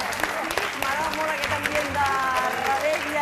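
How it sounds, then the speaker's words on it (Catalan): Studio audience applause on a Catalan television show, steady clapping throughout with voices talking and calling out over it. "Aplaudiment fort a Pere Mas, Anna Boades, David Balaguer, Àvi"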